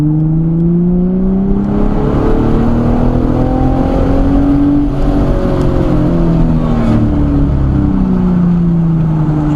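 A car on an autocross course at Pocono accelerates flat out downhill, its engine droning loud and close from inside the cabin, pitch climbing and dipping through gear changes over nearly ten seconds.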